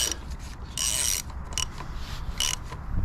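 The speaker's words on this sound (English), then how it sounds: "So we will fasten the bolts now, and if you do so, you have to do it with a torque of 45 Newton meters." Brake caliper bolts being tightened by hand on a Honda CBR650R motorcycle, with a few short ratcheting and rubbing bursts, close and moderately loud against quiet background.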